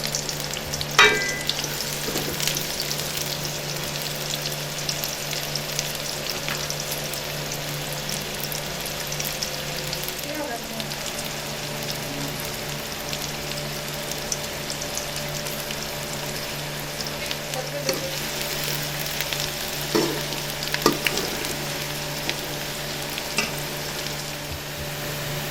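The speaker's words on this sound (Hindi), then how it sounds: "प्याज को अच्छे तरीके से फ्राई करेंगे।" Onions frying in ghee in a pan for a Punjabi-style chana dal with bottle gourd, a steady close sizzle with occasional stirring scrapes throughout, no voices.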